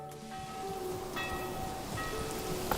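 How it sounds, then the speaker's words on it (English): A church bell in the medieval city-building game Manor Lords rings repeatedly as a raid warning, steady tolling tones over a constant rain-like ambient wash, fairly soft and unaccompanied by talk. "Why is the church bell going off?"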